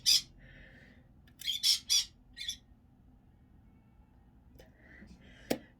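Pet birds squawking loudly indoors in a home, several harsh screeching calls in short bursts separated by quiet gaps, with one sharp squawk near the end.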